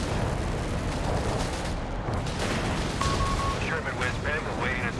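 Artillery barrage explosions in Company of Heroes 3 during a 4v4 match, a dense rumbling wash of blasts and gunfire that stays loud throughout, with brief tonal game sounds appearing partway through.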